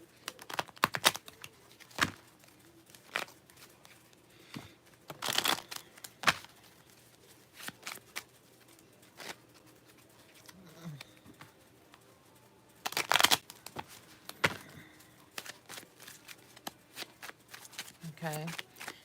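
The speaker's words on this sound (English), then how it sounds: "Let me give these a good shuffle too." Tarot cards are shuffled in two loud, rustling bursts, with quieter handling and small taps in between.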